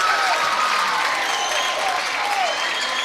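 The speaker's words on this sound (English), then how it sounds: "Something to cheer about here for the home crowd" When a wide-open three-pointer drops in a high school basketball game, the home crowd in the gym breaks into loud, sustained applause and cheering, with whistles rising over it.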